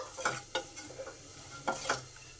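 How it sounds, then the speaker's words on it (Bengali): Panch phoron, dried chillies and a bay leaf fry in hot oil, a quiet sizzle broken by several distinct spatula scrapes and stirs against the pan. "পাঁচ ফোড়ন লঙ্কা তেজপাতাটাকে কয়েক সেকেন্ড ভেজে নেবো"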